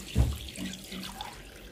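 Water poured into a cooking pot for chicken pulao, five cups measured for four cups of rice; a brief splashing gush near the start, then a softer trickle fading out, close by with no talk.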